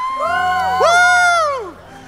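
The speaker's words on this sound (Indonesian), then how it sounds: "Kawan sekali lagi berikan tepuk tangan yang paling meriah buat Tuhan kita." Church congregation cheering and whooping loudly together, a dense swell of voices with shouts rising near the middle before fading out.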